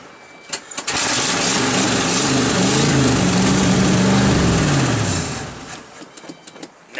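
A small gasoline engine kicks into life after a couple of clicks, runs at a loud steady drone for several seconds, then sputters and winds down as it runs out of gas, followed by faint handling noises.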